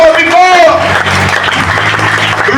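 Church congregation applauding during worship, a dense wash of clapping layered with singing and raised voices throughout.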